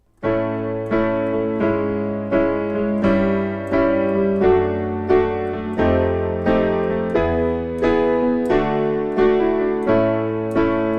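Piano chords played in a steady rhythm, one struck about every second, with a sustained bass underneath. The playing is clear and close, with no voices.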